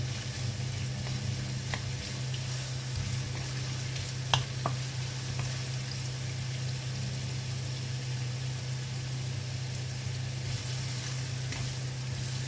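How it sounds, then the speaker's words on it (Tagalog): Ingredients with ginger sautéing until golden brown for monggo with alukbati, a steady close sizzle running throughout with an occasional sharp tap of a utensil, no voices. "Igisa lang natin siya hanggang maging golden brown"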